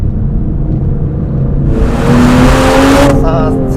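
A 2025 Aston Martin Vanquish with a twin-turbo engine accelerates along a winding road, its steady close drone climbing in pitch and swelling louder midway before easing back.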